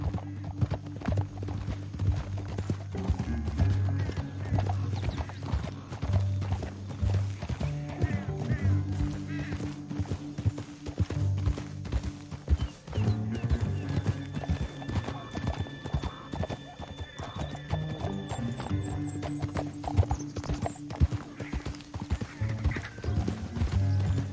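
Horses in Red Dead Redemption 2 gallop in a steady rapid clip-clop of hooves with occasional whinnies, running continuously over game music and brief voices.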